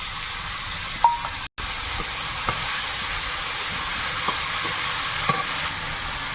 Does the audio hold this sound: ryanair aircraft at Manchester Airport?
no